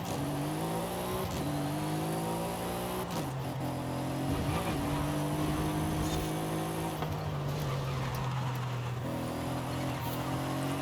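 An AMG SL63 in Forza Horizon 5 drives on a track, its engine droning steadily at high revs with gear shifts and brief pitch drops, loud and close, no talk over it.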